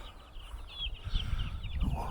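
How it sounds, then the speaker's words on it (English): Baby chickens at a Somerset camping and caravan site cheep faintly in a rapid, high-pitched stream, set against a low rumble of outdoor background noise. "They're baby chickens."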